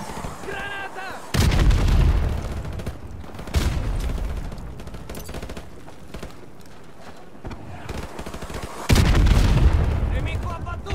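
RPG and grenade explosions in Call of Duty: Modern Warfare, with three heavy booms roaring out of a combat soundscape and shouted voices in between.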